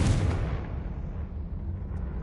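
A fiery Confringo spell explosion in Hogwarts Legacy, a single close burst at the start that rumbles and fades into a low lingering roar.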